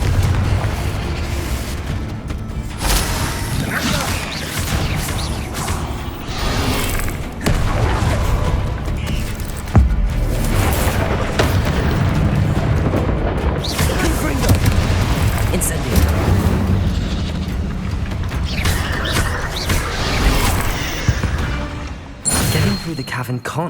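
Confringo, an explosive fire spell in Hogwarts Legacy, bursts in repeated booming blasts over a dense, loud game soundscape, with voices speaking in between.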